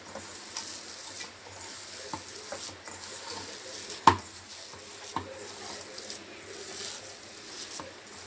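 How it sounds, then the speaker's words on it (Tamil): A hand kneads and mixes fish cutlet masala with lemon juice, giving soft, close squelching and rubbing with a few sharper taps, fairly quiet and with no voices. "சேர்த்து அப்படியே பிணைஞ்சிருவோம்."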